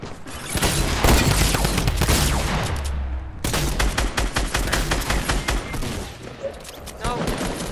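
Fortnite gunfire rattles in dense, rapid bursts with booming impacts, a loud, near-continuous barrage with a brief break midway.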